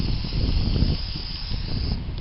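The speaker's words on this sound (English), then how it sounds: "See how windy it is." Wind gusts outdoors beside a backyard fire pit on cinder blocks, a fairly quiet, steady broadband rush buffeting the microphone with mild swells in strength.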